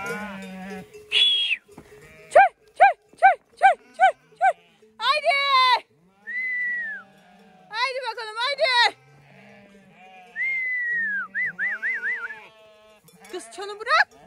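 Sheep and goats bleat on a farm around milking time, repeated loud close calls in rapid series alongside a person's voice.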